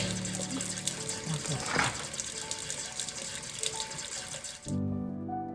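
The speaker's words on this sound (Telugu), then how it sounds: "వేడి నీళ్ళు వచ్చేస్తున్నాయి" Hot water runs from a kitchen sink faucet in a steady, hissing stream that fills the clip, then shuts off abruptly near the end, with brief voices underneath.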